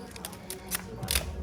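A Minolta X700 film camera lens is twisted off its mount, giving a few small, close, dry mechanical clicks and ratchety ticks in quick succession, faint and with no talk.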